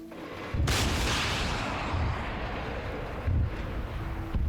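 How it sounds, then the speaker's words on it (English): A BRDM armoured vehicle firing in a military video game: a heavy, booming blast followed by a long rumbling wash, with another thump near the end, no voices. "the BRDM's currently shooting at the fire station"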